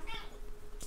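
A cat meows nearby, a short high mew followed by another quick cry, close and clear.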